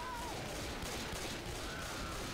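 Continuous gunfire in the zombie shooter Left 4 Dead 2, a steady, dense barrage of shots running without pause at moderate level.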